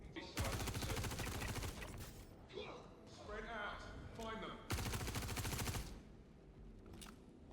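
Rapid bursts of automatic gunfire in the Star Citizen video game, with two long dense volleys and scattered single shots and mechanical clanks between them, loud and close.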